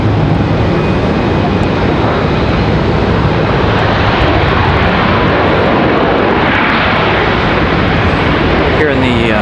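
Southwest Airlines airliner arriving at Raleigh-Durham International Airport, heard as a loud, steady, broadband engine roar that fills the whole stretch, with a faint voice under it.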